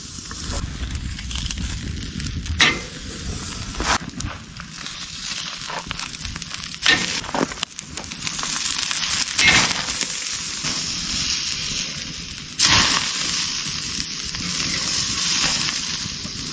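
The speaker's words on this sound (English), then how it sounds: "let's cook another steak" A steak sizzles and crackles in a pan over a campsite fire, a steady broad hiss running throughout with occasional louder pops and bursts, heard up close with no talking.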